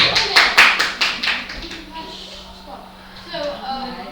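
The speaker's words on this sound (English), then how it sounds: "Give her a round of applause" A classroom of students gives a brief round of applause for a classmate, a burst of quick, fairly close claps that fades out within a couple of seconds into quieter room sound and talk.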